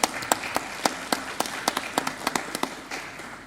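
An audience at an education conference plenary session applauds the keynote speaker: scattered, moderately loud claps in an irregular rhythm that thin out toward the end, with no talking.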